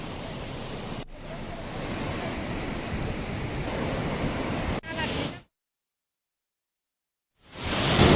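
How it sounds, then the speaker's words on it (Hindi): A river in Uttarakhand, the Ganga, swollen and rushing after heavy rain, heard as a loud, continuous roar of churning water that cuts out abruptly, falls silent for about two seconds, then surges back. "नदी अपने उफान पे है"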